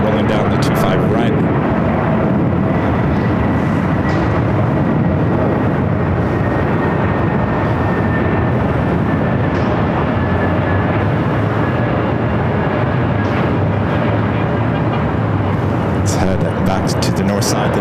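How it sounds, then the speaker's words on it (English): A United Boeing 787 Dreamliner rolls down runway 25 right at LAX, its continuous engine roar loud and steady, with a rising whine over the rumble and outdoor noise around it. "having United Dreamliner rolling down the 25 right"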